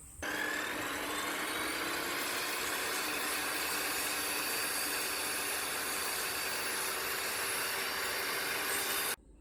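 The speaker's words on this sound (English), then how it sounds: "So I'm just going to cut them through with the table saw." Table saw cutting through plastic shim for solar panel brackets: a steady, whining buzz that holds evenly for about nine seconds, then stops abruptly.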